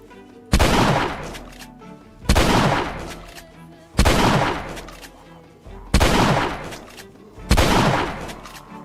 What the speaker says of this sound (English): Six shots from a shotgun